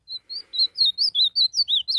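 An azulão, the blue grosbeak songbird, sings a rapid run of about ten clear, bright whistled notes, close and loud, with no other sound around it.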